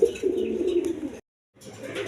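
Pigeons of mixed breeds in a sale collection coo in low, throaty rolling notes, a steady murmur broken by a brief silent gap before resuming, with no talking.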